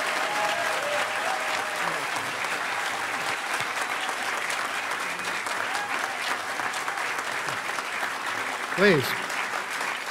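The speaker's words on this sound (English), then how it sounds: "Huge, huge round of applause" Sustained applause from a large audience at a hacker conference closing ceremony fills the whole stretch, steady and dense, with a brief spoken word near the end.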